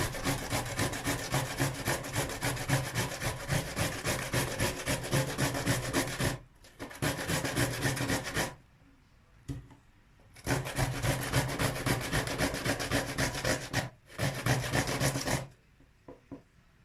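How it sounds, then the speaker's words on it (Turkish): Rhythmic rasping strokes of a cucumber rubbed over the fine side of a grater, close and loud, in long continuous runs broken by two short pauses. "Şöyle alacalı soyduğum bir bir adet salatalımı yine renden, ince tarafıyla rendeliyorum."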